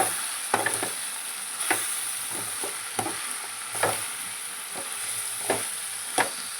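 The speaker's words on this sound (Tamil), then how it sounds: "இது எல்லாத்தையும் ஒரு கிளறிடுவோம்" Coriander powder and asafoetida are stirred in a pan for a bitter gourd kuzhambu, giving a soft frying hiss with repeated scraping strokes of a spoon at an irregular rhythm, close by, with no talking.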